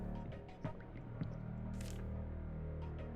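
A leaking, rusty water fountain in a game drips in a small, steady leak, with a few faint wet plinks and squishy drops over a low, quiet ambient hum.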